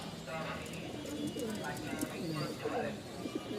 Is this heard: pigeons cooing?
yes